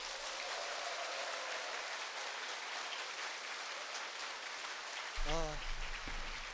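Audience clapping for President Park at a lecture hall event, a broad, steady wash of many hands applauding together, sustained and even throughout, with a brief voice at the end.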